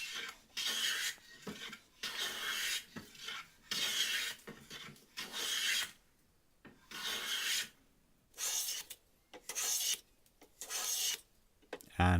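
Vintage Draper No.5 jack plane taking fine shavings off pine clamped in a vise: about nine rasping strokes, each a second or so long, separated by short quiet pauses, close and clear.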